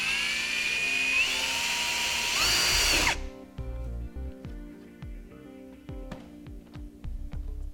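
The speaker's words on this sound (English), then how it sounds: "all we got to do is just drill a 1/4-inch hole in it" A power drill whines loudly for about three seconds with pitch rising and shifting while drilling a quarter-inch hole in a 2010 Mini Clubman bumper area, then cuts off, followed by scattered clicks and handling noises.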